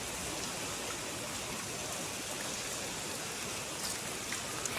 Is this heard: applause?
no